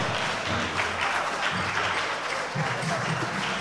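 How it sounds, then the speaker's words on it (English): A crowd at the grand finale of a tertiary business competition applauds the champions as they receive their trophy, producing a steady wash of clapping with cheering voices mixed in throughout. "let's welcome them with a hearty round of applause as they receive the trophy"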